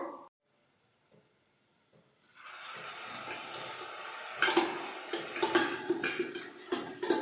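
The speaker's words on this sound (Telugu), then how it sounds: "ఈ వేగిన ఉల్లిపాయల్లోకి ఈ మెంతికూరను వేసేద్దాము." Fresh fenugreek leaves go into fried onions in a pan: a near-silent pause gives way to a rising sizzle, then close utensil clatter and stirring.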